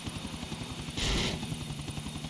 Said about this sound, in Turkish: Gerçekten helikopter bak çok ağır hareket ediyor.